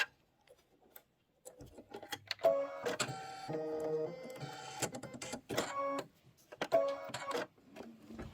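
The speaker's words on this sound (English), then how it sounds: "This is going to be a placement stitch for the wing." Embroidery machine sewing an applique placement stitch for a wing on a quilt block, heard as quiet, close, irregular bursts of rapid ticking and tonal whirring that pause and restart.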